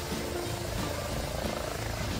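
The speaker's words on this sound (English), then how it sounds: "Ambulance helicopter." Steady, continuous rotor and engine drone of an ambulance helicopter in flight, droning evenly throughout with no voices.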